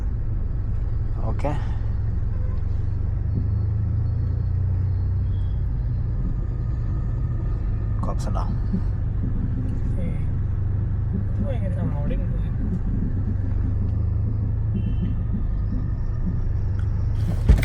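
Nissan GT-R R35 exhaust giving a steady, deep low rumble throughout, close by, with someone talking over it and a few sharp knocks.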